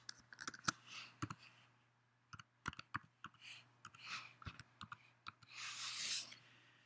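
Typing on a computer keyboard at a desk, quiet close clicks in uneven bursts and pauses against a faint steady hum.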